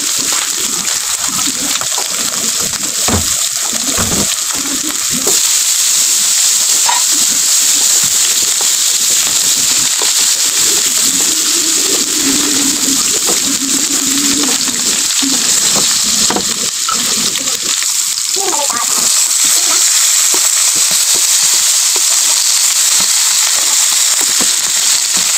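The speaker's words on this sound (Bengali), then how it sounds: "তো এই যে আমি মাছটা একটু হালকা ভাজি করে নিব, তার জন্য চুলা চলে আসছি।" Hilsa fish frying lightly in hot oil on a stove gives a loud, steady sizzle and crackle throughout, with occasional splatters and stirring scrapes.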